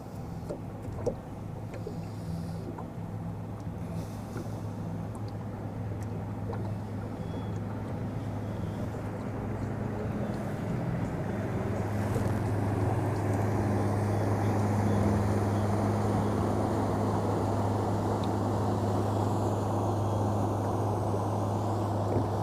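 A rental fishing boat's motor idles steadily while drifting on open water, a continuous low hum that persists throughout with no talking.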